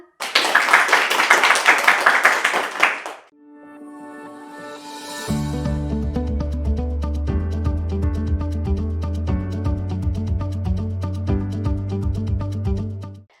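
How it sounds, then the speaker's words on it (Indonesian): Audience members at a student talk show on character education give a loud burst of clapping lasting about three seconds, then it stops and tonal music takes over. "Mari berikan tepuk tangan."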